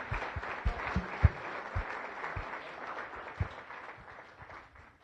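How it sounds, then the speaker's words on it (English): Moderate applause from members at a Las Vegas Rotary Club weekly luncheon meeting, a soft steady patter of many hands with a few heavier nearby claps, gradually thinning out toward the end. "let's give her a round of applause so that she knows we're thinking about her"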